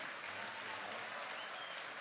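Steady applause from a concert audience in a concert hall fills the space evenly and fairly faintly, a dense wash of clapping with no breaks.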